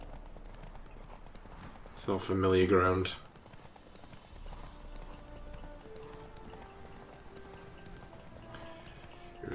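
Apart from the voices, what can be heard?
horse Roach galloping hooves, The Witcher 3 video game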